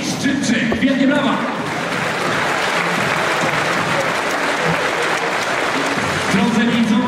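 Spectators at a Polish volleyball match between Stilon Gorzów and Stoczniowiec Politechnika Gdańska applaud the visiting team, a loud, dense, sustained wash of clapping with a voice heard over it at the start and end.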